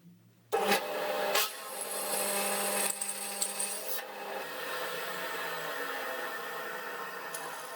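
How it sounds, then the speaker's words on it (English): A drill bit bores into metal with a harsh, continuous scraping and grinding as the chisel point starts the hole, starting abruptly with brief louder bursts early on, then holding a steady rasp. "The way drill bit's cut is that the chisel point is what starts the hole, and so that's scraping as it goes in."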